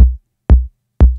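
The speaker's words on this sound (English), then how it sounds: "Previously, without effects, it sounded like this." Tom drum sample used as a kick, dry and unprocessed, struck three times at an even half-second pace, each a deep thud with a short decay into silence.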